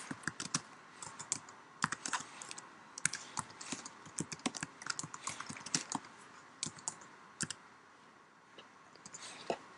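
Fingers type steadily on a computer keyboard while a podcast episode description is entered, producing a quiet, irregular stream of crisp key clicks with brief pauses and no talking.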